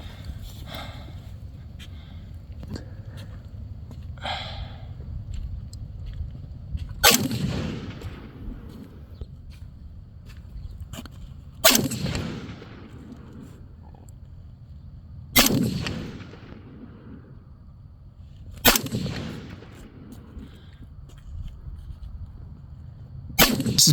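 A BCM RECCE14 rifle fires hand-loaded ammunition in five sharp, widely spaced shots at an outdoor range, each a loud crack with a short decaying echo.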